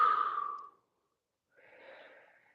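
A person stretching lets out two soft breaths close to the microphone: a fuller exhale at first, then after a short silence a lighter, airy breath.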